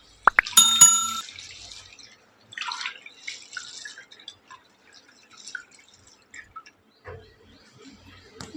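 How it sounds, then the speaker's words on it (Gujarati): Toor dal is washed by hand in a bowl of water: a few bright clinks of a metal bowl at first, then soft, intermittent splashes and sloshing, close and quiet. "એક વાડકી તુવેરની દાળ લીધી છે પાણી ઉમેરીને સારી રીતે એને વોશ કરી લેવાની છે"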